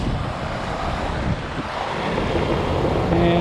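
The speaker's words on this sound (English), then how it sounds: "But it's regained a good flow to the creek." Creek water pouring over a low stick dam after it was broken, a steady full wash of flowing water, constant and close throughout with a faint tonal hum near the end.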